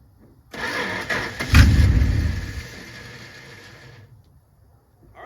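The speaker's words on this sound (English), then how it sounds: "See if this thrice revived parts truck wants to run today." Old parts truck engine cranking, then catching with a loud burst and settling into a rough idle that fades after a few seconds, close by.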